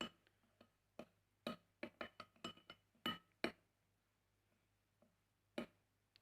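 A spoon mixes baking soda whitening cream in a glass bowl, making a string of sharp, close clinks against the glass in an irregular rhythm, with quiet pauses between them and no talking.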